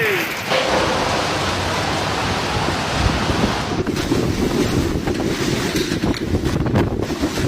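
Storm wind and heavy waves surge and crash in loud, gusty bursts that buffet the microphone over a constant churning wash of water.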